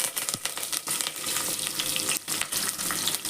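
Green chilies and curry leaves frying in hot oil for a biriyani give a steady, close crackling sizzle with quick spitting pops throughout, and no voices.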